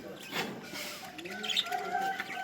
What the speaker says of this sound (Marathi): आपले पक्षी तर भरपूरच झालेत